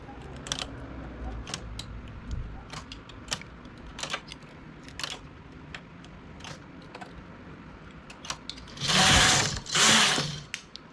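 A knitting machine carriage knits a lace border with sharp mechanical clacks and ratcheting clicks at irregular intervals, ending in two louder, longer whirring sweeps of the carriage.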